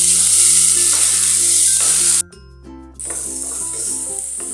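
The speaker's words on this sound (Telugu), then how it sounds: "ఫ్రై చేసుకోవాలి." Broccoli with prepared masala frying in a pan makes a loud, continuous sizzle over soft background music. It drops out briefly midway, then resumes just as strongly.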